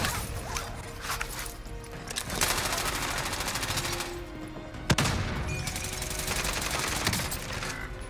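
Rapid automatic gunfire in a video game firefight near an airport tower, with sustained bursts of rattling shots and a sharp crack midway, layered over dense battle noise.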